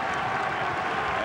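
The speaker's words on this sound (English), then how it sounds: "And the crowd is going wild." Crowd noise at a 1997 college basketball game between UConn and Rutgers, a constant roar of cheering fans heard as a dense wash throughout.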